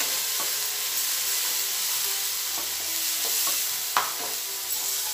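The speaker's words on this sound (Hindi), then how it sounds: "अब इसको भी हम देके फ्राई करेंगे। इसको भी अभी अच्छी तरह से फ्राई करेंगे, तेल छोड़ते तक इसे हम फ्राई करेंगे।" Masala paste for egg lababdar frying in oil, a steady loud sizzle and hiss throughout with a few soft scrapes of stirring and one sharper knock, no voices.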